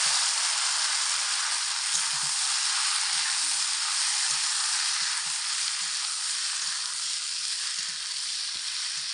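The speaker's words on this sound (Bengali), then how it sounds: "লঙ্কা রসুন ভাজা হয়ে গেছে ধুয়ে রাখা দানাগুলোকে তেলের মধ্যে দিয়ে দিলাম" Malabar spinach seeds hiss in hot oil with garlic and chili, a loud, even, continuous sizzle close up, with faint stirring taps underneath and no voices.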